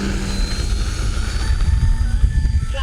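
An E-flite Turbo Timber RC plane with bush wheels drones steadily as it flies in to land, a continuous whirring motor tone over wind rumble outdoors, fairly close and loud throughout.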